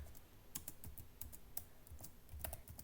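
Python code is typed on a computer keyboard in a quick, uneven run of soft key clicks heard close up but faint, with no talking.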